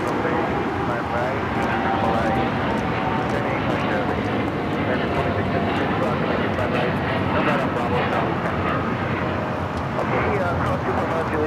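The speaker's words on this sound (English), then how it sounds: "This is United Airlines 1855 taking off to Newark on the 787-10 Dreamliner" A United Airlines Boeing 787-10 Dreamliner roars through its takeoff at LAX bound for Newark, a loud, sustained broadband engine rumble, with people talking over it throughout.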